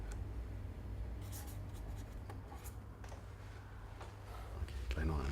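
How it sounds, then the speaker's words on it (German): A pen scratches a signature onto paper in close, quick strokes that come in uneven bursts, over a low steady background hum. "Schreib ruhig noch einmal."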